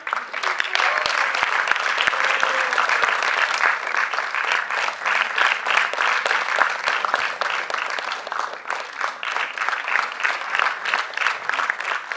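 An audience applauding after a children's Ramayana play, dense sustained clapping from many hands lasting the whole stretch, fairly close and lively, with a voice briefly heard under it.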